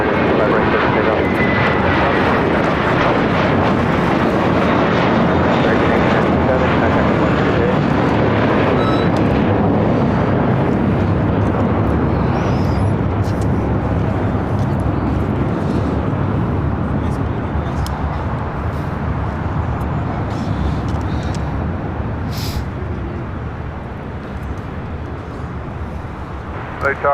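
A Spirit airliner takes off from runway 25 right at LAX, giving a loud, steady, broad jet roar that holds for the whole stretch and eases slightly near the end.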